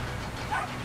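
A small dog in the game Brothers: A Tale of Two Sons gives a short yappy bark and whimper, one brief burst over a constant game background.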